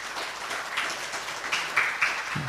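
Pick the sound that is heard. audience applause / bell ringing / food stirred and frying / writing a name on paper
audience applause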